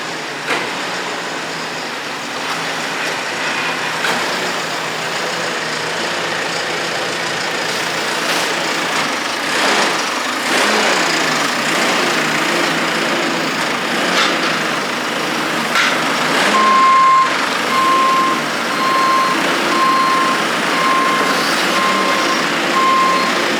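Hay handling machine driving out of a farm barn, a diesel engine rumbling steadily with a reversing beeper pulsing near the end, loud and close.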